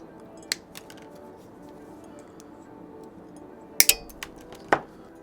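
Snips of cutters trimming the excess ends off zip ties on a Hawk Pro drone, a few sharp clicks spaced over several seconds, close and quiet against a faint background.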